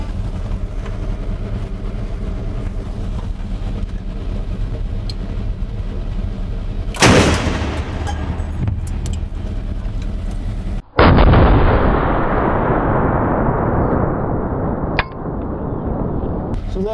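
A tank cannon fires with a sharp, booming blast, followed by a second heavy explosion as it blasts through a wall, both close and loud over a constant engine rumble and debris noise.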